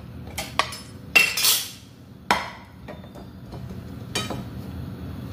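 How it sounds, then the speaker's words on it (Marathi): An iron tawa griddle is handled in a home kitchen while palak corn frankie is made, giving a few sharp metallic clanks and clatters spread over several seconds, close and fairly loud against quiet room noise, with no one speaking. "आपण हा आता तवा घेऊया"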